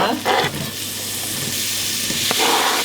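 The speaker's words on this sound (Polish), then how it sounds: "No i chwilkę tak smażymy, tak żeby się nam to ładnie zeszkliło." Chopped onion and garlic hit strongly heated rapeseed oil for a vegan curry, setting off a loud, close, continuous sizzle with brief stirring bursts at the start and near the end, and no talking.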